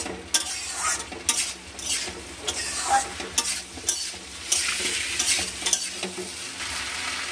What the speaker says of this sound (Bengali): এবার ভালোভাবে একটু নেড়ে নিতে হবে একবার একটু ভালোভাবে